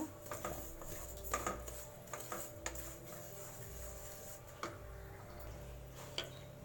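Semolina (rava) roasting in ghee in a pan, stirred with a utensil that gives repeated small taps and scrapes against the metal over a steady low background hum, close by and without speech.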